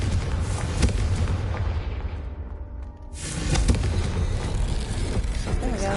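Confringo fire spell explosion in Hogwarts Legacy, a loud booming blast with rumbling, crackling debris that briefly fades then surges again into continued heavy roaring noise.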